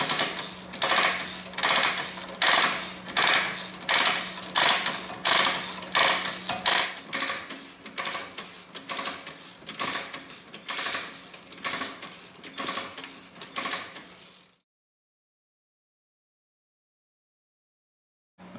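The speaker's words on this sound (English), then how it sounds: "I pretty much got it ratcheted up to the four-wheeler. I just undid it and winded it back in." A mechanical trailer winch on an off-road mower ratchets and winds in with rapid, loud, repeated clicking for about fourteen seconds, then stops abruptly into silence.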